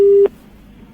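A telephone busy tone sounds after a call is hung up: one loud, steady beep cuts off after a quarter second, then quiet line hiss, and the next beep begins right at the end.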